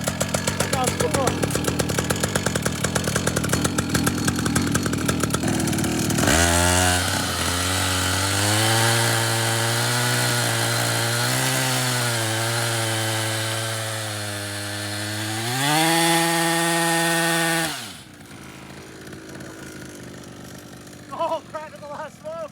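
A $329 49cc pocket rocket mini motorcycle's two-stroke engine starts with rough, raspy revving, then settles into a loud, buzzing whine that holds steady and climbs in pitch before cutting off; excited voices can be heard around it.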